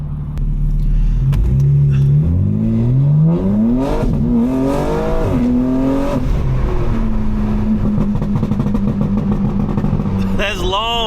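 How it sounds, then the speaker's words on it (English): A BMW M4 tuned for maximum burbles rumbles loudly and close at low RPM, its exhaust note rising and falling through several revs before settling into a drawn-out crackling drone, with a voice briefly at the end. "It's forcing burbles out at those low RPMs."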